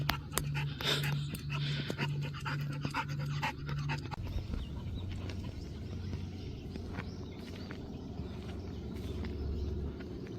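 Close, rapid panting from dogs, heavy and rhythmic at first, then softer and steady with light shuffling around it.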